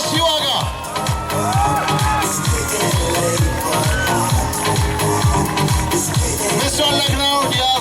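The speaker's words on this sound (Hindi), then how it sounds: "जोरदार तालियों से स्वागत कीजिए मिस्टर शिवा का" A crowd at the Mr. Lucknow 2012 pageant cheers and whoops as Mr. Shiva is welcomed, over loud music with a thumping, regular beat that runs throughout.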